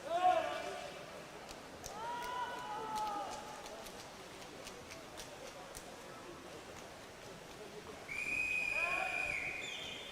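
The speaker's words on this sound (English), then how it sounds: "Whistles are now coming" Whistles blowing at a regional swimming championship in a pool hall, several shrill tones rising and wavering, one near the start, another around two seconds and a longer high blast late on, amid crowd noise and talking.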